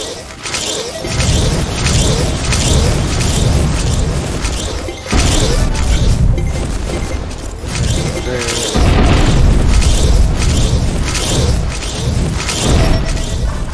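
Missile explosions rumble in the Infinifactory video game as missile cruisers attack, heavy booms and crashes rolling loud and continuous with a few sharp onsets.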